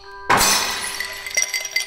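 Glass shatters sharply in an audio drama sound effect, a single loud crash followed by scattered clinks and tinkles of falling shards that fade over the next second and a half.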